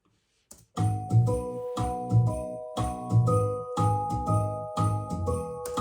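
Celesta and bells play O Christmas Tree together, with bright tinkling tones layered over a soft pulsing low accompaniment in steady repeated phrases, moderately quiet, starting after a brief silence, with no talking.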